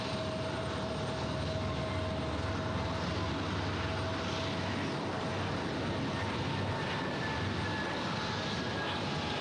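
A Delta airliner departs Raleigh-Durham airport with a continuous, broad engine roar heard from a distance, steady and unbroken, with a faint whining tone riding on top.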